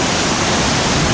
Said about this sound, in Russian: Кстати, этот водопад не всегда есть.